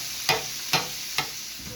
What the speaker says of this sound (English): Now I'm just going to work them around on the griddle and let them brown up and keep cooking a little.